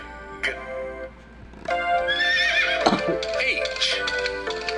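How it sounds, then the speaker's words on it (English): A horse whinnies loudly with a rising then falling call over a steady musical backing, followed by a second burst of neighing and a brief clip-clop of hooves. "Homer horse, Homer horse."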